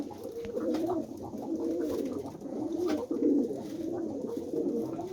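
Pigeons or doves cooing in a coop in the evening, a steady close chorus of overlapping low coos without pause.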